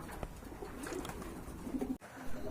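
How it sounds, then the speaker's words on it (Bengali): Large Maltese pigeons coo softly on a farm, a few low, faint, throaty coos against a quiet background with no talking. "এখানে কিন্তু আরেক জোড়া কবুতর আছে কোয়ালিটি সম্পন্ন কবুতর মাল্টেস কবুতর"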